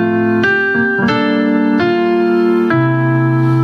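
Simplified hymn piano part played alone, sustained chords changing every second or so as the inner voices move beneath steady outer notes, loud and close.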